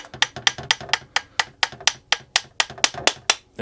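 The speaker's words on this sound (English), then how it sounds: "Can't get the bowl off. Hammer! Hit it harder." A hammer strikes a stuck carburetor bowl on a Homelite HG600 Lightning Bug generator in about fifteen sharp, evenly spaced metallic knocks, close and loud with no talking.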